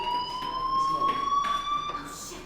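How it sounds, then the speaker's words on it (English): A fire alarm rings inside the video game Life is Strange, a steady electronic tone with harmonic overtones sounding continuously at moderate volume over faint background ambience. "Hey, do you hear that fire alarm?"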